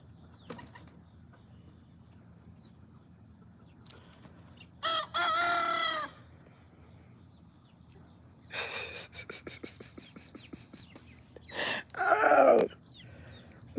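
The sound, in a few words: roosters crowing and clucking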